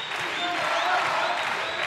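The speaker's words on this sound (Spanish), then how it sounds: "Empieza a aplaudir la gente." Spectators at a boxing match applaud in a sustained, dense patter of many hands, steady and fairly loud, with a commentator's voice faintly underneath.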